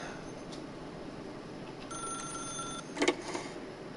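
A telephone rings faintly in a quiet room, one electronic trill of about a second followed by a short burst of clatter, with no talking.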